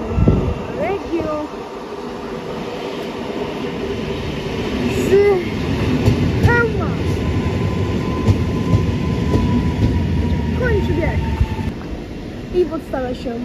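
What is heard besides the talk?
train arriving at Lublin Główny station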